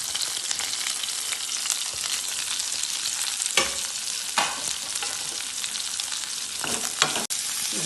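Chillies and onion frying in oil in a pan for soya chunk Manchurian, a steady loud sizzle throughout with a few scraping stirs, no talking.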